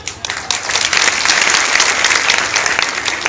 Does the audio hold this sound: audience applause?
yes